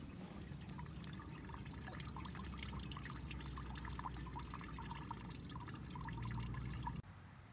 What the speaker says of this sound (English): I flushed the rest of that crud out and clean fuel is now coming out of the tank